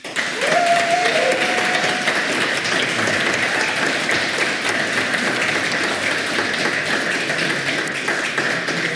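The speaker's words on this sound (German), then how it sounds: "ich messe aber nur den Applaus" A crowd at a science slam event applauds a contestant in a continuous, even wash of clapping that holds steady and loud for the whole stretch.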